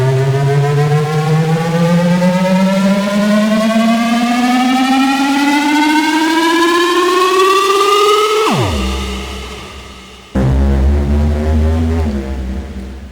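A synth pitch riser programmed on an Akai Force sweeps steadily upward for about eight seconds, loud and buzzy, then drops sharply and restarts as a lower, dense sustained tone.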